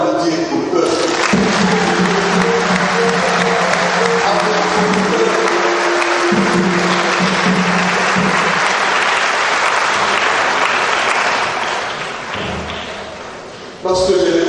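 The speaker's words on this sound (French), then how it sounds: "je vous prie d'applaudir pour eux" Congregation applauding at a diaconal ordination in St Joseph Cathedral, Bafoussam: sustained loud clapping fills the church for about twelve seconds before fading, with voices and a low tone running underneath.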